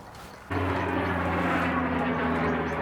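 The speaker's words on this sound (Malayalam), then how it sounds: "പ്ലെയിൻ വരുന്നുണ്ട്" An airplane approaches overhead: a loud, steady engine roar with a low droning hum cuts in abruptly after a brief quiet moment and holds strong to the end, with no talk over it.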